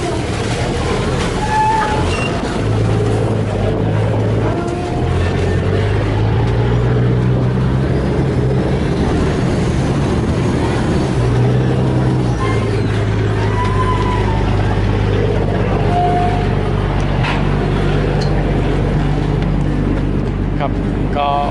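A Chao Phraya express boat's engine drones low and steady on the river in Bangkok, a continuous rumble with a shifting hum, with faint voices now and then in the background.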